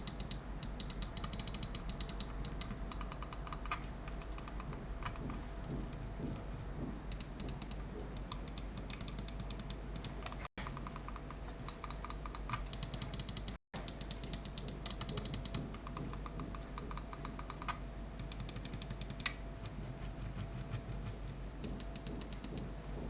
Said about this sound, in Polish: nie może tutaj też zabraknąć tego, żeby pokazać jak ta myszka brzmi